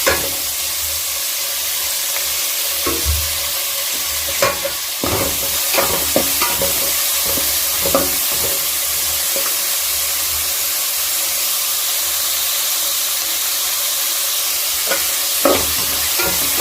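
Masala ingredients fry loudly in a pan while a spatula stirs them, a constant sizzling hiss broken by repeated scraping knocks that come in uneven bursts.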